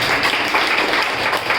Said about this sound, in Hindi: तालियां बजाइए भाई